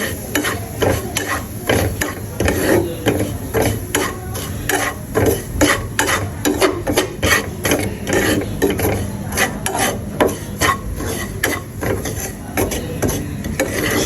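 Semolina dry-frying in a pan for spring rolls, with a spoon stirring and scraping in a steady, rapid rhythm of clinks and scrapes over a soft sizzle, close and continuous without talk.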